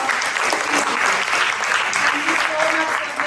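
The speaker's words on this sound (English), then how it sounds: "can we give him a big round of applause?" An audience at the Houses of Parliament in the UK breaks into sustained, dense applause filling the room evenly throughout.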